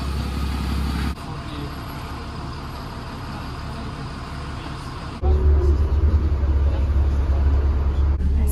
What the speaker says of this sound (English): it's a double decker bus